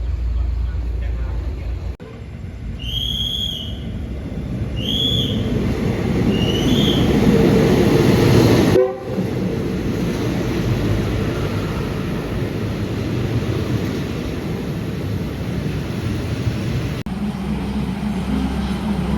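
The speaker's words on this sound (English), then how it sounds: "the arrival of the train" A train rumbles into a station in Udon Thani, Thailand, steadily with a loud low roar, high squealing tones early on, and people talking nearby over the noise.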